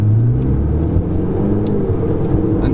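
A Ferrari 488 GTB engine drones steadily from inside the car after a downshift, a loud, even low rumble with no talking.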